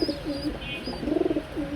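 Pigeons coo repeatedly at a pigeon farm, soft rolling calls rising and falling in a steady rhythm, fairly close, with faint chirps and farm background noise.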